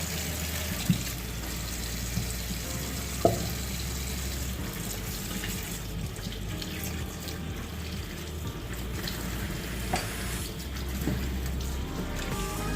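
Water runs steadily from a faucet over pork feet being rinsed, a continuous splashing hiss with a few faint clunks, and no one speaks.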